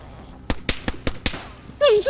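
Five sharp gunshots in the video game DayZ in a quick, uneven burst, followed by a rising electronic whine.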